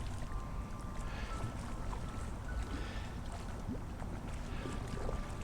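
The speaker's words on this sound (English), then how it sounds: "It's quite breezy out here." Steady, blustery wind rushes over the microphone while a kayak drifts on the Chattahoochee River's Helene floodwaters, a dense continuous roar with no talking.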